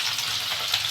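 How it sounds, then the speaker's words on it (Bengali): Sliced capsicum frying in a pan, a brief, even, close hiss of sizzling oil with no talking. "এবার ক্যাপসিকামগুলোও দিয়ে ঢেলে দেবো, সেটা দিয়ে এবার ভেজে দেবো।"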